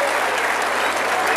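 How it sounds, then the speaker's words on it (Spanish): Crowd applause for bull riders at a rodeo during a Candelaria festival in San Juan del Estado, Oaxaca: a dense, steady wash of many hands clapping at once, loud and continuous throughout. "¡El aplauso, señoras y señores!"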